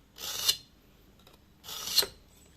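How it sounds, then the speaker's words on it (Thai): A steel knife blade is drawn through a V-slot sharpener, giving two harsh rasping grinds about a second and a half apart, close and fairly quiet, with near silence between. "ก็รูดไปสักสามครั้ง โอ้โห มันดังกึดเหมือน มันกินในเนื้อเหล็กนะ"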